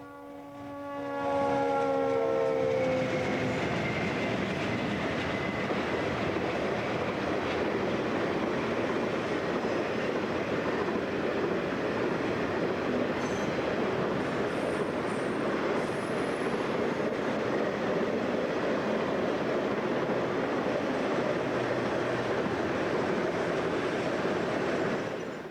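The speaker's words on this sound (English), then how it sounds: "a southbound UP intermodal train blasts through Bell City" A southbound Union Pacific intermodal freight train roars through Bell City, its horn sounding at the start before a loud, steady rumble of passing cars that lasts throughout.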